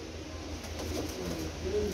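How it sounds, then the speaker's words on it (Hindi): A pigeon coos softly in a low, rounded call amid a steady background hum, faint and close, with no talking over it. "ऐ करीचे वाला कबूतर आया जनाब, बड़ा कमाल का कबूतर है भी"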